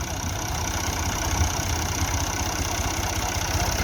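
An MF 240 tractor engine labours under heavy load with a steady, dense low drone and constant vibration, close and loud, with no voices.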